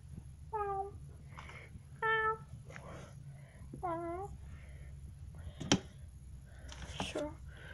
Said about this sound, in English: And these cats are just gonna be seeing this place about. All these nice cats.